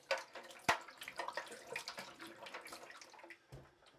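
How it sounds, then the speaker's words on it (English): Water splashes and trickles over a wet-plate tintype being rinsed after developing, a close, uneven pouring and rinsing sound with a few louder splashes. "You got to rinse the plate off before you fix it and uh, just to stop the action of the developer."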